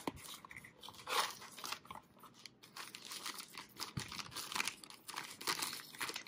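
A video adapter for a Fujifilm X100V camera is unwrapped from its packaging, giving close, quiet crinkling and crunching with intermittent tearing that comes in irregular bursts.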